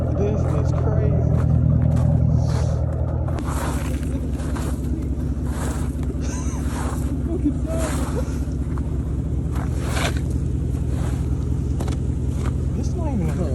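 A car engine drones steadily and loudly throughout, a constant low rumble with a shift in tone early on as it is pushed harder, while people talk over it.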